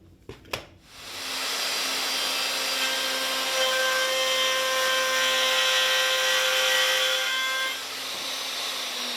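A router cutting a mortise hole into a wooden leg for a handmade bed frame, a loud, steady high-pitched whine and roar that holds for about seven seconds after a few brief knocks at the start, then drops slightly near the end.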